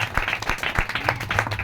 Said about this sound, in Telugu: గట్టి ఒకసారి చప్పట్లు పడదాం